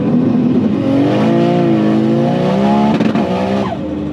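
A 900-horsepower Nissan Skyline accelerates hard with its tires spinning, a loud, sustained engine roar rising steadily in pitch, then wavering and easing near the end.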